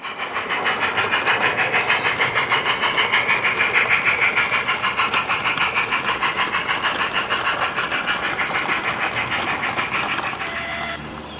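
A model railway locomotive runs with a brake van on a small light railway layout, a close, loud, rhythmic mechanical chuffing and rattling that stays steady, then fades near the end, with no talk.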